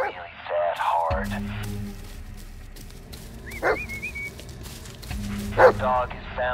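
A dog in the Blair Witch horror game gives a few short barks and whines, close and clear amid in-game voices and radio-like tones.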